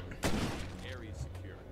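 Gunfire in State of Decay, a single sharp loud shot near the start followed by a short fading tail, with people talking over it.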